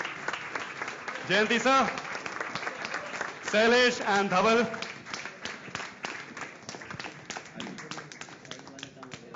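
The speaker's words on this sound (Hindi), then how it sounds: "Huge round of applause, ladies and gentlemen." Audience applause for guests called onto the stage at a film song launch and first-look event, steady clapping running under loud announcer speech throughout.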